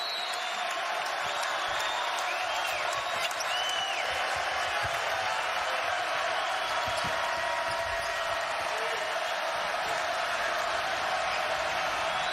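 A packed crowd at a 2016 St. Bonaventure at Dayton college basketball game roars steadily during full-court pressure, a dense, unbroken wall of cheering with faint sneaker squeaks and ball bounces underneath.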